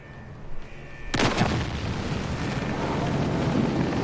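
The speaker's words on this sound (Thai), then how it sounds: "ได้ยินเสียงระเบิดดังมาก" A sudden loud blast bursts out after a moment of quiet in the video game Delta Force, followed by a long rumbling roar that keeps going.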